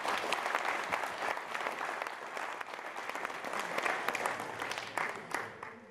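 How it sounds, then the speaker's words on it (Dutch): An audience at a volunteer awards ceremony claps for three prize winners, a steady wash of applause with individual hand claps audible, moderately distant and fairly quiet, swelling and easing slightly. "Daar wil ik wel even een applaus voor."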